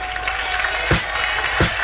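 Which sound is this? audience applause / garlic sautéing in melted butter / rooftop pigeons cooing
audience applause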